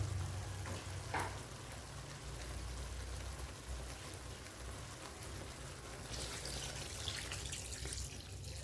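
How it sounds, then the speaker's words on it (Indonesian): Thin coconut milk pours into a hot pan holding grilled tuna, giving a steady close sizzle and bubbling hiss with a brighter splash of frying near the end. "Lalu tuang santan encer."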